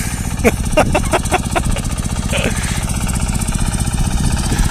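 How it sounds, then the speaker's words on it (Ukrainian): A tractor or machine engine keeps running through a pumpkin harvest in the field, its loud throbbing pulse continuous, with a voice talking over it at the start. "Ніколай, тільки не глуши мотор."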